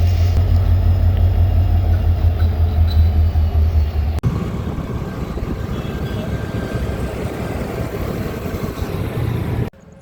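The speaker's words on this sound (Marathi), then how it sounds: "तुम्ही कधी ट्रेनचं इंजिन लागताना बघितलेलं नसेल तर तुम्हाला दाखवून देतो." A locomotive engine is coupled to a train at a railway station near Parli Vaijnath, with a loud, steady diesel rumble, a sudden shift partway through, then continuing mechanical drone until it cuts off near the end.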